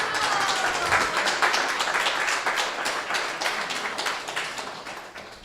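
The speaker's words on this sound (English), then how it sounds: "Please give them a big round of applause." A temple audience at a Sunday feast lecture claps in a loud, close round of applause with many hands, tapering off slightly toward the end.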